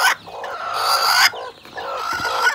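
A brooding hen in her nest gives two drawn-out, throaty clucking calls, loud and close, with a brief pause between them.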